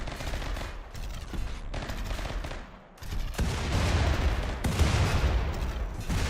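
Ship weapons firing in bursts during a Rimworld space battle, loud and dense volleys with a brief lull near the middle before heavier sustained fire resumes.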